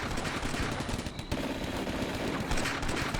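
Gunfire in a pitched battle in the Combat Mission wargame, dense overlapping rifle and machine-gun bursts rattling continuously and loudly throughout.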